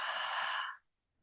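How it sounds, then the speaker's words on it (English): A single deep, breathy exhale through the mouth during guided meditation, close and airy, fading out to silence after about three quarters of a second. "And breathing out through the mouth."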